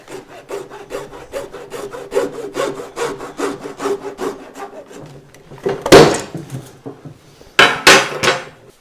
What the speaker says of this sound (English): hacksaw is the best tool for slicing into pipe like this